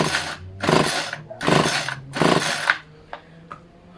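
A Homelite HBLT25CNB string trimmer is pull-started without firing, four quick rasping recoil-cord pulls close by, followed by faint clicks and no engine catching.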